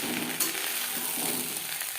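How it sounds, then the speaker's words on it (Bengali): Onion stalks (peyaj koli) frying in a pan over a medium gas flame, with a continuous close sizzle and crackle and a brief stirring clatter. "আমি এখানে পেঁয়াজ কলি ভাজা তৈরি করছি।"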